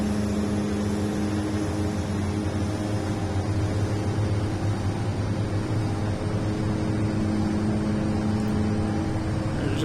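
Twin turboprop engines of a DHC-6-300 Twin Otter in Flight Simulator X, holding a steady loud drone with a constant tonal hum just short of full power through the takeoff roll, no voices.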